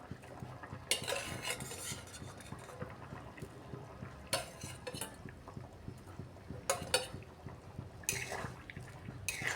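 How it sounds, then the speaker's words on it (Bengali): Fried fish roe is stirred into a simmering potato curry, with intermittent metallic scrapes and clinks of a spoon against the pot over a quiet, faintly bubbling background. "সব মাছের ডিমগুলো দিয়েও আর কিছুক্ষণ নাড়িয়ে একটু ফুটিয়ে নিতে হবে"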